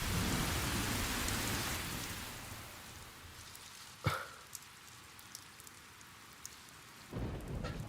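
Heavy rain falls outside in a dense, steady wash of noise, with one sharp crack near the middle and no voices.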